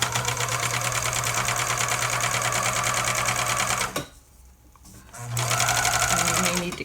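Close and loud, a serger sewing machine whirs steadily while it stitches a raglan doll shirt seam. It stops briefly for a quiet pause, then starts running again.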